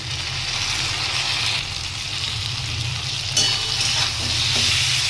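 Ground spice paste with shrimp, green chili and garlic stirred in a hot pan while cooking stem vegetable, a steady loud sizzle with scraping stirs throughout, no talk.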